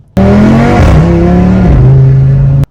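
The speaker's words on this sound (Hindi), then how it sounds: "RS3 का साउंड भाई जहर है" Audi RS3 engine revving hard, a loud, close, sustained rasp with rising and falling pitch and a gear change near the end, no talking.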